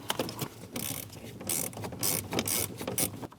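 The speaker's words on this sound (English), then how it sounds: "We're going to get our bolt started for our intermediate shaft." A ratchet wrench tightens the intermediate shaft bolt under the dash of a Chevrolet Express 2500 during a steering column bearing job, giving several short bursts of close metallic clicking with brief pauses between strokes.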